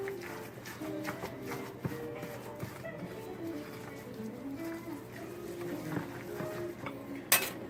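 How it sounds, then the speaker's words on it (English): Eggs and plantains being mixed in a bowl for squirrel bread, with a steady run of light utensil clinks and scrapes against the dish, one sharper knock near the end. "Just want to get those eggs broken up in there and get those plantains spread around"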